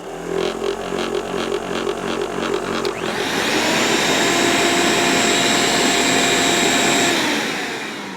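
A vacuum cleaner powered by a Bluetti AC200P power station roars steadily and loud, its tone shifting partway through as the motor pitch rises into a constant high whine before easing off.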